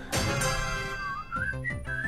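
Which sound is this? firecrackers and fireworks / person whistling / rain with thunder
person whistling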